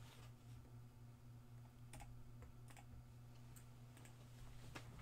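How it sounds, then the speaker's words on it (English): Typing on a computer keyboard, faint quick key clicks in short irregular bursts over a low steady hum, no voices. "So we'll type our hits in here as we go."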